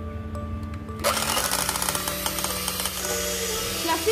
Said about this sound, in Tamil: இப்போ கொஞ்சம் கொஞ்சமா வாட்டர் போட்டு மிக்ஸ் பீட் பண்ணிடுவோம்.